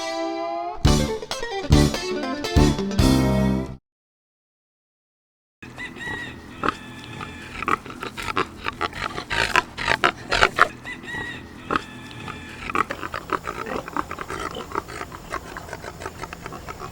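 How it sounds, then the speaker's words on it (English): Pigs at a farm sanctuary grunt and oink, close and loud at first, then after a short silence a busier stretch of repeated snorts and grunts alongside other farm animal noises. "Pigs are amazing animals."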